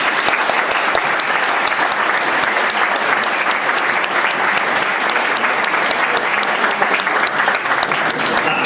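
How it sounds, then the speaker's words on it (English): Sustained, loud applause from a large audience at a 40th anniversary gala dinner: many hands clapping densely and evenly for the whole stretch, with no pause. "they appreciate the applause"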